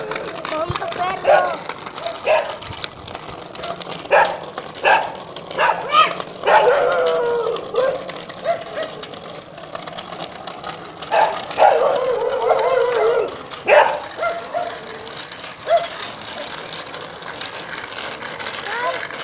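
A dog barks and yips in repeated bursts, some sharp and close, with people talking over and between the barks.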